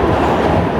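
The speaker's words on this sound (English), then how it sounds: "It is the fastest point in the New York City subway" A New York City subway 7 line train runs at speed through a tunnel, a loud, continuous roar and rumble with rattling wheels that fills the whole clip without pause.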